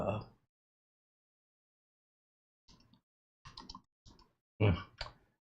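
Fingers tapping computer keyboard keys, a few quiet clicks right at the start, then a long silence followed by short bursts of several clicks and a final cluster of firmer keystrokes, close and fairly soft.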